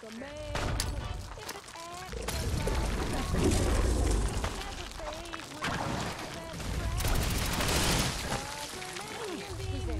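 Bursts of video game gunfire in a Fallout-style fight against mirelurks, rapid repeated shots in clusters that come and go over several seconds, mixed with in-game sounds and excited players talking over the action.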